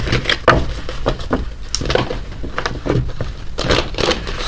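Tarot cards being shuffled during a reading, a run of quick crackling riffles and soft scrapes in irregular bursts, close and fairly loud, with no talk.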